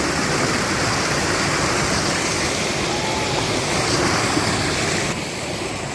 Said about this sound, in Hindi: कितनी तेजी से जल गिर रहा है।